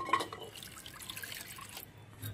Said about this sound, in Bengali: মূলোটা এইভাবে কেটে নিয়েছি, এবার ধুয়ে তুলে নেব।